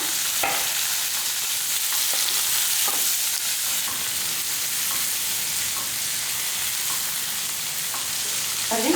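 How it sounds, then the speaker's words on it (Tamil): Moringa leaves and coriander leaves sautéing in a pan for murungai keerai kadaisal chutney give a steady, close sizzle throughout, broken by occasional light scrapes and clicks of stirring. "இது வதங்கும் போதே நம்ம என்ன பண்ணலாம் இதில் கொஞ்சமாக இலை போட்டுக்கலாம் கொஞ்சமாக கொத்தமல்லி இலையும் போட்டுக்கலாம்"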